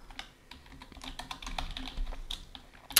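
Rapid clicks of a computer keyboard during a Mad City game session, a quick irregular run of light keystrokes, close and fairly quiet with no talk.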